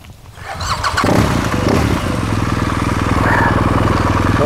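Motorcycle engine idling and then revving up as the rider starts a slow elephant turn from a standstill, loud and steady close by, with a rising throttle note after the first second.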